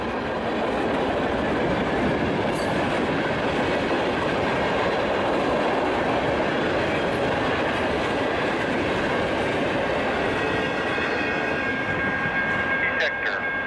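A short freight train rolls past a trackside defect detector in snowy Michigan, a loud, steady rumble with continuous wheel clatter, close by throughout.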